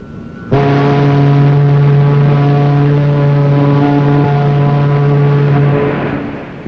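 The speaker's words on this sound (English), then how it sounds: "One long blast on a whistle." Battleship USS New Jersey sounding a single long whistle blast on sea trials, a loud, steady, deep harmonic tone that starts abruptly and holds for about six seconds before fading.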